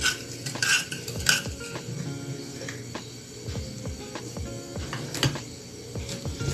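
Metal utensil scraping and clinking against a bowl as ube cake batter is stirred together with cooking oil, with steady stirring and occasional sharper knocks, up close and alone.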